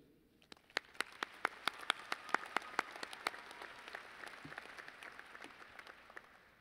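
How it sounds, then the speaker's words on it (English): A university commencement crowd applauds, beginning with distinct individual hand claps and swelling into a fuller, distant-sounding wash of clapping in a large hall, fairly quiet overall. "Please join me again in applauding the stellar student."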